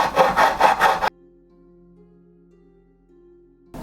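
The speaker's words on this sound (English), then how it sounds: "I just need to take like a file and some sandpaper and start evening out the" Rough rasping strokes from a file and sandpaper evening out the surface of a skateboard built from 1,760 glued paper strips, a loud close burst of about a second that cuts off to near silence with a faint steady hum.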